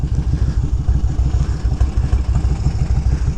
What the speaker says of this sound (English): Hear the exhaust. Has a nice sound to it. Idle's nice and low.